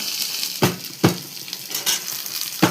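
Onion sizzles in hot oil in a pan, a steady close frying crackle broken by several sharp scraping strokes of a spatula stirring, with no voices.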